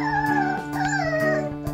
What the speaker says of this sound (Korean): 배고프다고 시위하는 강아지들입니다